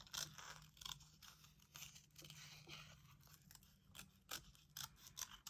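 Scissors fussy cutting around small paper images for a journal spread, giving quiet, close, irregular snips and crisp paper rustles in quick succession without talk.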